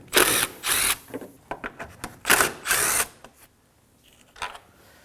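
Tools work on the bolts of a 2016-2020 Kia Sorento 2.4L during AC condenser replacement, using a 10mm socket. There are a few short, loud bursts of ratcheting, close up, with small clicks and clatter between them.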